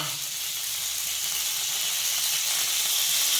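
Hot oil sizzles steadily in a heated kadai while jackfruit idli is being cooked, a bright continuous hiss held close and even throughout, with no voices.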